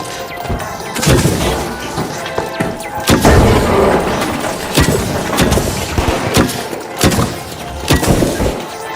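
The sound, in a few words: grenade explosion in video game The Finals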